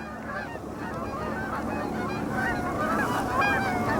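A flock of geese honks continuously, many overlapping calls at a steady distance, with no talking.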